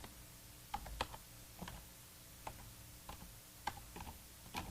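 Typing code on a computer keyboard in Visual Studio: sparse, faint individual key clicks at an irregular pace over a quiet room background, with no voices.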